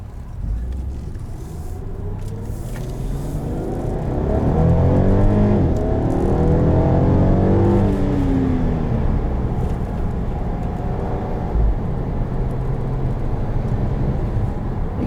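The VR6 engine of a 2018 Volkswagen Passat GT heard from inside the cabin: a steady drone that climbs into a smooth, rising rev under acceleration, then holds at a throaty cruise.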